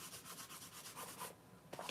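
Fine sanding along the edges of a leather piece, a steady rhythmic abrasive rubbing that runs close and continuous before easing off, with a few light handling knocks near the end.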